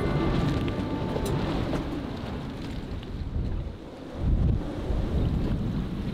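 Storm wind roars around a sailboat at anchor, a constant low buffeting rumble that swells into a stronger gust partway through, with no voices.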